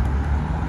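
An Aston Martin DB11 supercar passes at a supercar gathering in Alderley Edge, a steady, fairly loud low engine rumble throughout the short moment with no clear peak.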